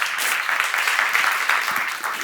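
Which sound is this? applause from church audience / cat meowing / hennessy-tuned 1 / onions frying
applause from church audience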